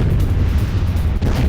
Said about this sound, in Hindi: ये देखिए जरा, क्लस्टर बम अटैक किया गया है।